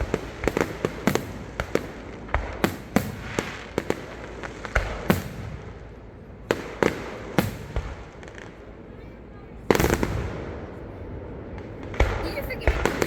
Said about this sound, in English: This is how we do the fireworks here on the 4th of July in Virginia.